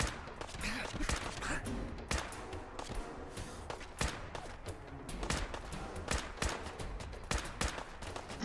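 Gunshots in a video game ring out as scattered sharp cracks and short volleys, fairly faint and irregular, mostly alone with little other sound.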